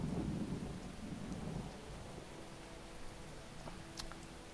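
Thunder rumbles heavily at first, then eases into steady rain with distant storm noise from the fantasy strategy game Fallen Enchantress, with no voices.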